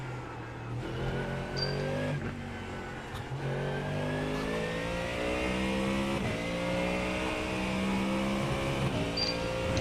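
Race car engine in a racing video game, loud and close, revving through a series of rising gear pulls with brief lifts between them, running continuously with no talk.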